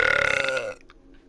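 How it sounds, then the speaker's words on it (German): A single long, loud, voiced burp with a wavering tone, trailing off abruptly into a few quiet mouth sounds near the close. "war gutes Rülps"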